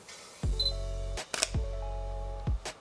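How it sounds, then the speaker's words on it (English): Three muffled shutter actuations from a Sony A7 IV mirrorless camera, each a low thump followed by a soft click, spaced about a second apart, close up. "What's the shutter sound like?"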